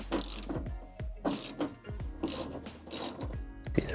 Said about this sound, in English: there's 1, 2, 3 bolts that we're gonna undo, and that'll free the spoiler